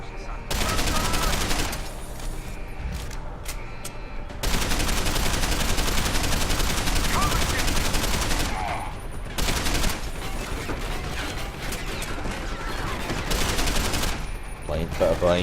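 Dense, loud gunfire fills a war-zone firefight in the video game Deus Ex: Human Revolution, with sustained rapid bursts and volleys that break off briefly before resuming, including blind fire from cover.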